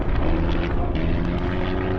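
A Japanese warplane from the attack on Pearl Harbor flies overhead: a loud, steady propeller-engine drone runs unbroken throughout, with no voices.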